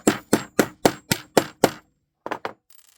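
A hammer strikes a metal hole punch set straight on a desk: seven sharp, evenly spaced blows close up, a pause, then two lighter taps.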